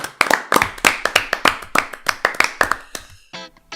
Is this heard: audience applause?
yes